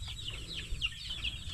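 Young chicks peeping in a quick run of high, short calls, close by over a low background hum.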